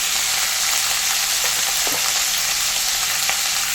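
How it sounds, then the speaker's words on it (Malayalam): Chopped onion, tomato and ginger sauté loudly in a pan for tomato chutney, a dense, even sizzle with faint stirring scrapes beneath, continuous and close with no talking. "നല്ലപോലെ ഒന്ന് ഇളക്കി കൊടുക്കാം"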